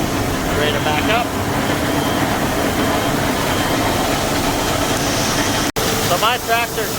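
A heavy tractor with the PTO engaged inches backward in reverse over ice, its engine giving a loud, steady drone with a brief cutout near the end, while voices talk over it.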